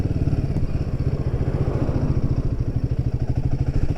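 A Royal Enfield Himalayan 450 motorcycle engine chugs steadily at low revs while climbing a slight incline, a close, even, rapid thumping pulse that holds through with no talking.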